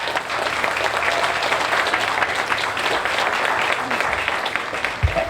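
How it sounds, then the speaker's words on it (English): A crowd applauds educators at a school district Texas Independence Day event, with steady, fairly loud clapping that tapers slightly near the end, with faint voices blending in. "Let's give them a big round of applause."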